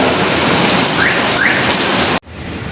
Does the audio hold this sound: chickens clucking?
no